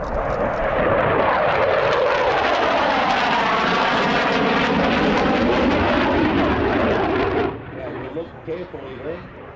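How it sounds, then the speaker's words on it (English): A SAAB J-35 Draken jet flies past at the Midlands Air Festival 2024 air show with afterburner lit, a loud continuous roar sweeping by with a flanging whoosh before dropping off sharply, followed by a fainter rumble with a voice over it. "perhaps through your camera lenses you could see all the shock diamonds in that afterburner plume."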